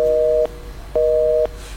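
Telephone line tone on a live TV call-in show, two loud steady beeps about half a second long separated by a short gap, heard alone.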